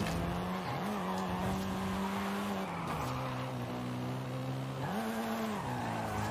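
A Volkswagen Golf R drifts in Forza Horizon 5, its tires squealing in a long continuous howl whose pitch dips and rises with the slides, over steady engine drone.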